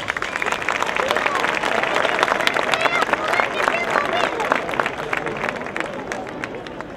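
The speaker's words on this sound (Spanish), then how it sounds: "Un fuerte aplauso para el Centro de Danza Mancina" An audience applauds the Mancina dance company with sustained, fairly loud clapping mixed with crowd murmur, steady for several seconds.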